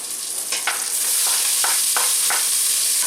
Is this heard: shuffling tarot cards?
no